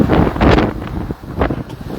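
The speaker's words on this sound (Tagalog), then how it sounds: "talagang sobrang lakas na ho ng hangin" Strong typhoon wind roars and buffets the microphone in heavy gusts, a continuous rushing noise with no voices, in Alicia, Isabela.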